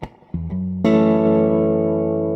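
A clean electric guitar chord rings out through a hand-wired Burman Pro 501 1x12 combo amplifier, sustaining with a lingering reverb tail after a few quieter plucked notes.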